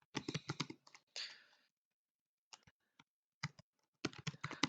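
Keys clatter on a computer keyboard in quick, close bursts of typing, broken by short pauses and a long silent gap before a final flurry of keystrokes.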